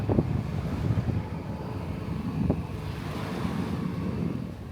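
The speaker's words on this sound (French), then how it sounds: "Il y a un peu de vent" Wind blowing across a secluded beach on Langkawi island, a steady, close, broadband rush and rumble that buffets the microphone for the whole stretch, with no voices over it.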